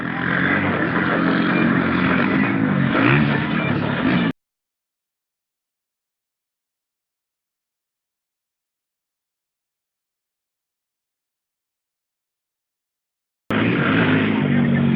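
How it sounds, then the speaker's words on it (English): At a daredevil stunt show, a loud motorcycle engine roars during a jump through fire, cuts off abruptly into silence, then returns briefly at full volume. "That one is the motorcycle fire jump."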